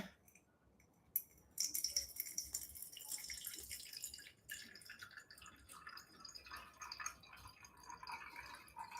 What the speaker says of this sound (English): Okay, rinse the filter. Get rid of that papery flavor.